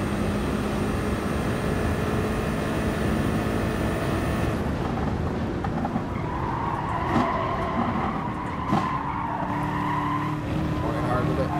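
A BMW M6 race car in the GT Sport racing game screams along at high revs, tires squealing and skidding through corners, a steady loud engine drone throughout with a voice commentating over it.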